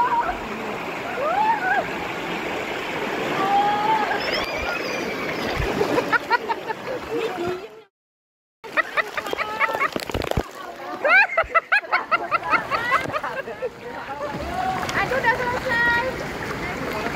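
River water splashes and sloshes steadily while tubing through Green Canyon at Cijulang, with a brief silent break midway and voices talking over the rushing current.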